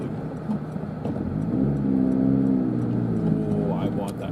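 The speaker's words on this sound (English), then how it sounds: "Subaru WRX ST, yeah, it's one of my favorite cars ever." A Subaru WRX STI engine and muffler growl past at moderate distance, a rising drone that swells then fades, heard from inside a vehicle on snowy Donner Pass with people talking over it.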